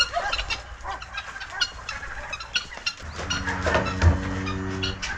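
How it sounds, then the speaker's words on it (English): Chickens and guinea fowl in a farmyard make clucking, squawking calls, loudest toward the end, with some rustling and movement mixed in. "Chickens and guineas, I mean."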